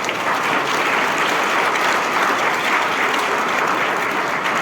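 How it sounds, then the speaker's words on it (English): Steady, loud applause from an audience at a memorial lecture, a dense unbroken roar of many hands clapping at constant intensity throughout. "Another round of applause for Mr."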